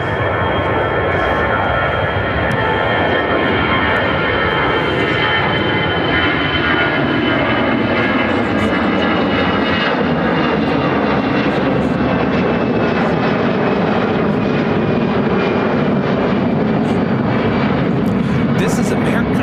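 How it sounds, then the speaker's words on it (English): An American Airlines Airbus A319 takes off from Chicago O'Hare bound for Washington Reagan National. Its engines give a loud, sustained roar, and a high whine slowly drops in pitch as the jet climbs away. "American Airlines 2813 taking off to Washington Reagan National on the A319."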